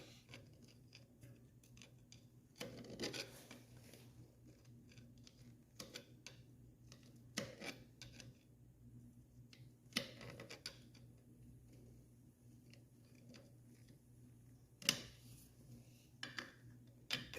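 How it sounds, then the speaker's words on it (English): A hammer taps a screwdriver to turn a nut while rebuilding a Honda ATC clutch, sharp metallic taps at irregular intervals, faint and close, with a quiet steady hum underneath. "If you're like me, you don't have the right wrench, you're going to use a screwdriver and hammer."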